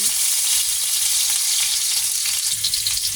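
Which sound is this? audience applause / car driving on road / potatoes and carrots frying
potatoes and carrots frying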